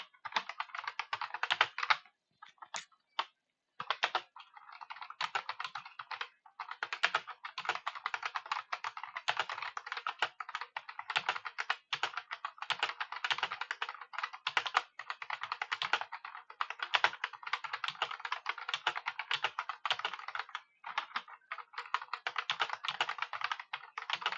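Rapid, steady typing on a computer keyboard, close up, with brief pauses between bursts of clicking keys.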